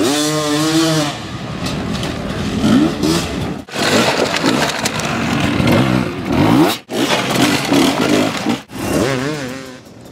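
A Beta 250 RR dirt bike rides a badly dug-out track. Its engine revs loud and close, the pitch rising and falling through throttle bursts, with brief cuts between them.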